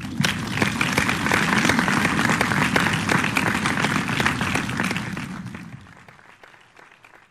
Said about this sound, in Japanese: 改めて受賞者の皆さん、それから発表者の皆さんに大きな拍手をお送りください。